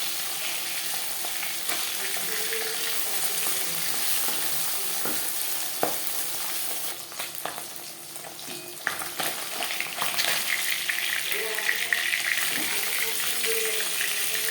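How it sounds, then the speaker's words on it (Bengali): Pabda fish frying gently in hot oil, a steady close sizzle and crackle running throughout with occasional clinks of a utensil, no voices. "মাছ হালকা করে ভেজে নেব।"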